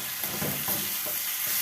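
Three small tomatoes fry in hot oil for a raw tomato chutney, a close, steady sizzle with soft stirring scrapes running through the short stretch.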